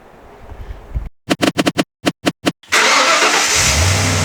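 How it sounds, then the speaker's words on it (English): A Ford AU XR8 V8 with an engine squeal cranks in a rapid series of distinct starter pulses, then fires and settles into a loud, steady roar close by. "Give it a rev. Yeah, give it a real decent rev."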